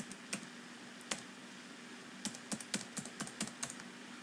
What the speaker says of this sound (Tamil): மொபைல் நம்பர் போய்ட்டு நீங்கள் டைப் பண்ணுங்கள்.